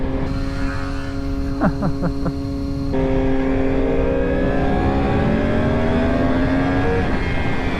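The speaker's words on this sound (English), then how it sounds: "that is literally just 1/8 of a throttle and it just rockets to 100 miles an hour" A Yamaha R1 sport motorcycle accelerating hard, its engine note climbing steadily in pitch as it pulls through the gears, loud and close with strong wind noise.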